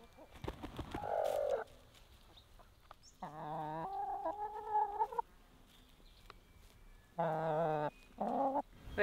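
Larger brown chickens in a garden enclosure cluck and call in several separate bursts, with quiet gaps between them and no talking.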